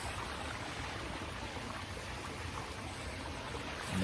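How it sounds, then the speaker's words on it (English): Waterfalls on the grounds of a mid-century modern house in Carmichael, California, a constant broadband rushing splash, steady and fairly close, with no voices. "there's lots of waterfalls"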